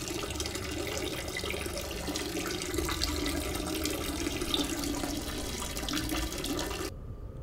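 A faucet runs steadily into a sink in Fears to Fathom, a continuous rushing splash at close range that stops abruptly near the end.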